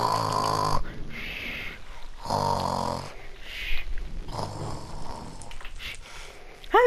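Minecraft snoring sound effect, repeated slow, buzzing snore bursts with pauses between them, heard through game audio and fairly loud, ending on a short rising tone.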